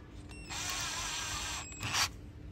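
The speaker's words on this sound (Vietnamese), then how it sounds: "Anh em muốn khỏe hơn thì chuyển sang cho em chế độ khoan." A cordless 4-cell drill set to drill mode drives a screw: a steady, fairly loud motor whine runs for about a second, stops, then a short sharp burst follows, with no talking.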